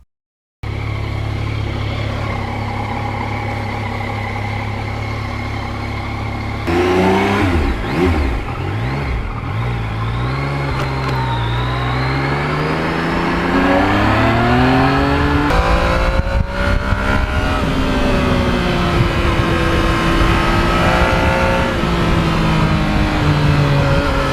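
A Yamaha MT-09 motorcycle revs and accelerates on an open road, its engine note rising and falling through several gear pulls, loud and close throughout with no talking.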